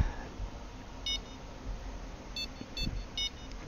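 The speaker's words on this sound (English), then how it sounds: "It's not really beeping very much, which means he's just pecking at it right at the moment." Short electronic beeps from a fishing bite alarm in the game Fishing Planet sound sporadically, a few quick chirps spaced apart over a low, steady background rumble.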